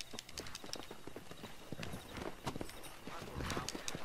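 Horse hooves clip-clop at a steady riding gait in the open-world game Red Dead Redemption, the rhythmic hoofbeats close and continuous with a voice speaking over them at times.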